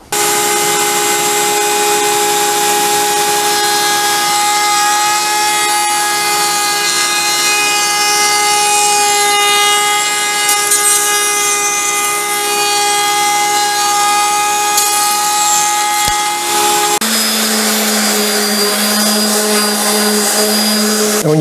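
A router spins loudly and continuously while shaping a plywood piece for a gliding rocker, holding a steady high whine and then dropping in pitch near the end as the cut loads the bit.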